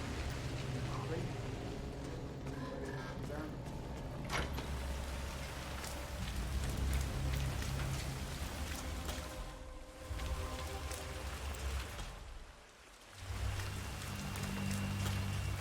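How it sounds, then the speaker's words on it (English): Rain falls steadily in the Hitman 3 video game, set in China, a continuous hiss of drops on surfaces with low rumbles beneath and brief dips in intensity. "Rain, nothing but rain."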